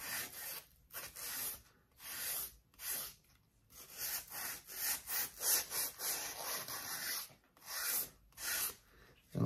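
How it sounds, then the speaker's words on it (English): Wood being sanded on the heel of a loose-fitting guitar neck, a steady back-and-forth rasping scrape in repeated strokes with brief pauses between them, close and fairly loud with no talking. "I'm probably gonna sand the heel just a little bit to try to get a little bit better contact"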